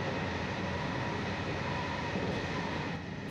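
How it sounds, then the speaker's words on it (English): A train running through the Hidaka mountains of Hokkaido, passing through tunnels and over a viaduct across a deep valley; a steady, loud rumble and roar that fades slightly near the end. "The train pops out of several tunnels, only to fly over a viaduct spanning a deep valley and back into another tunnel on the other side."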